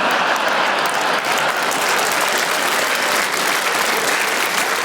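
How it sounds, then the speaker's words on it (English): An audience at a stand-up comedy show applauds loudly and steadily. The dense, continuous clapping fills the whole stretch without a pause. "Don't clap!"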